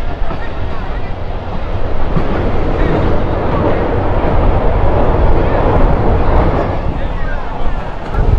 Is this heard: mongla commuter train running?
yes